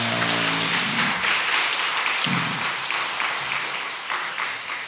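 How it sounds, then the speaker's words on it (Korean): A church congregation claps steadily in a dense wash of applause for the worship team, with a brief low voice at the start, gradually easing off. "우리 찬양팀 위해서도 격려 축복의 박수 주시기 바랍니다"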